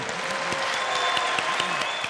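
Steady applause from a crowd, dense and continuous clapping throughout with no voices standing out.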